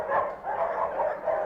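Dogs barking at a crowded animal shelter built for 110 dogs now housing 140, a steady run of overlapping barks and yips close by with no voices.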